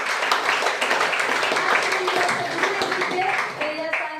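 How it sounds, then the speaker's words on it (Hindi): Audience applause at a Hindi motivational seminar, a steady wash of clapping from a crowd throughout, with voices and cheering mixed in over it. "मनीष सर के लिए जोरदार ताली"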